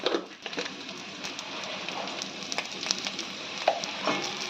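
Eggplant frying in a pan with salt and turmeric, a steady close sizzle and crackle running throughout with a few brief sharper pops and stirring clicks.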